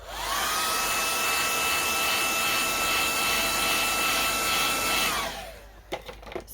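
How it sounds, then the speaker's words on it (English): A hair dryer drying paint blows loud and steady with a rising whine, then cuts off, leaving a few faint clicks and handling noises. "Maybe I'll hit it here with the hairdryer."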